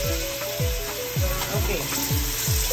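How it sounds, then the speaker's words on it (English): Vegetables frying in hot oil for boneless chicken lo mein, a steady close sizzle with repeated clanks and scrapes of stirring at a regular pace, loud and continuous with no talking. "So I'm putting the vegetable in the fryer."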